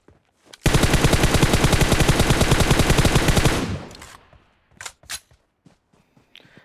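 Rapid MK14 rifle fire in PUBG rings out as a long, dense burst of evenly spaced shots lasting about three seconds, loud and close, followed by a few scattered separate shots and quieter footstep-like sounds.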